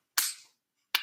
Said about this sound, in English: they're popping off, it's gunshots.